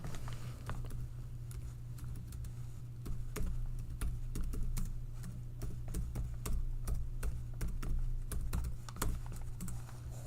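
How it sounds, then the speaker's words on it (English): Rapid, uneven clicking of keys on a computer keyboard typed one-handed, a continuous patter of close taps over a low steady hum, with no voices. "I'm typing with one hand"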